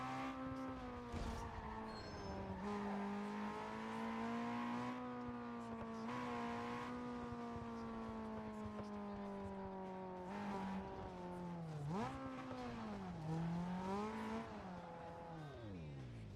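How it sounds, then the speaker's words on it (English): Car engine revving in a driving video game, a steady loud engine tone that climbs and dips with the revs and shifts, continuous and close throughout with no talk. "Oh, it gets loud with the revs."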